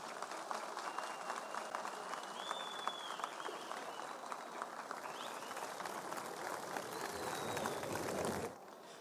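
Festival audience applauding after a ballet dancers' opening at an outdoor parade, with dense, steady clapping from many hands at a distance that stops abruptly near the end, with faint whistles mixed in.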